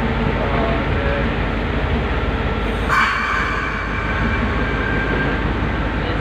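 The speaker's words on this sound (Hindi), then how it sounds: "केसीआर की ट्रेन कोचिज और लोकोमोटिव बिल्कुल बेहतरीन पोजीशन में।" KCR train of Pakistan Railways in Karachi, heard as a constant loud rumble of wheels and carriage noise with rhythmic clatter on the rails and a brief metallic hiss midway, steady and close.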